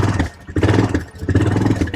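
A quad bike engine revs up in rough bursts close by, surging twice with a brief dip between, loud and throaty with no talking over it.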